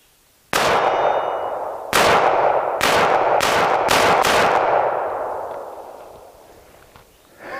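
A Kahr P380 compact carry pistol fires six sharp, loud shots outdoors, one then a faster cluster of five, with long ringing echoes that slowly fade.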